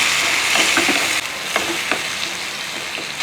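Tomatoes and garlic sizzle steadily in a hot pan while a spoon stirs them, giving several soft scraping strokes over a continuous close frying hiss, with no talking.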